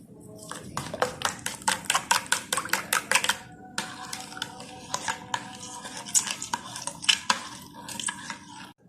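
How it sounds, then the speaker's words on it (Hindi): Egg, sugar and milk mixture being whisked by hand for sweet milky bread, a quick run of rhythmic clinking taps against the bowl, near and steady, pausing briefly then resuming with no talking. "अंडा, चीनी, दूध हमारा मिक्स हो गया"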